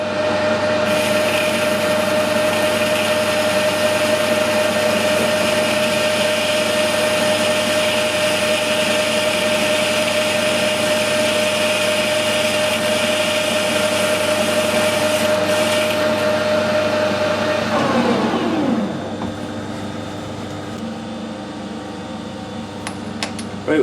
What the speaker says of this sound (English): I'll take one more cut, the spring pass without putting any more feed on.